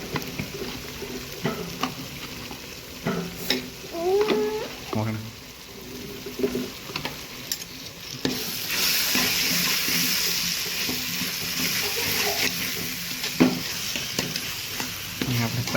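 Kashmiri chili powder is stirred into sizzling kaju paneer masala in a pan, with scraping spoon strokes over steady frying that grows louder midway, while a voice talks over it.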